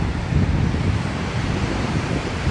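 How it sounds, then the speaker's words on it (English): Ocean waves wash against the Oregon coast in a steady, broad roar of surf, loud and close with rumbling wind buffeting, and no talking. "Hearing the sounds of the ocean in the background, you really can't beat this."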